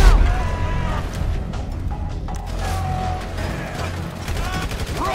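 Rapid gunfire in the GTA 5 heist at the Union Depository, dense bursts of shots blending into a steady, loud barrage with mechanical clatter, while voices shout over it.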